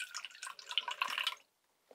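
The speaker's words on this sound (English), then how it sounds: "I'm going to add some water to his water bowl" Water splashes briefly into a baby snake's water bowl, a short close pour of trickling, bubbling liquid that stops after about a second and a half, leaving quiet.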